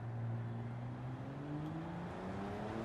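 A race car engine in the Gran Turismo 7 video game holds a steady, droning hum with slowly rising pitch as the car accelerates, continuous and fairly close, with no talking.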